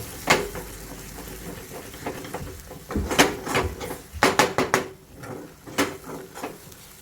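Red masala for a village-style spicy mutton curry is stirred in a pot, making a series of close scraping and clinking strokes of a spoon against metal over a faint sizzle.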